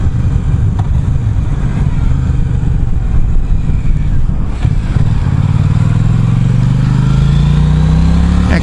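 A 2015 Triumph America parallel-twin motorcycle being ridden, its engine rumbling steadily under heavy wind noise, then the pitch climbing smoothly as it accelerates near the end.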